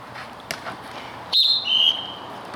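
Referee's whistle at a football match, a sharp two-part blast, the second tone slightly lower, heard at moderate distance over crowd and field ambience.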